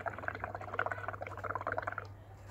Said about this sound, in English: I am going to blow into my bubbles until the bubbles come up over the bowl